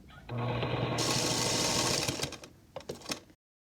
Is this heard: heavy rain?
no